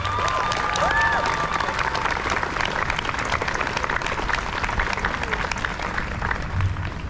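A crowd applauds at a Chaparral Middle School promotion ceremony, giving sustained loud clapping with some cheering and a hum of voices, heard steadily throughout.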